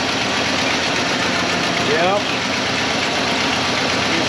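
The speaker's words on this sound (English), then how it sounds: "Why do I have to lean over the running engine?" A 1995 Ford F-150 truck engine, struggling to run on all eight cylinders, idles steadily with a low, knocking rumble close by, while a person briefly speaks over it.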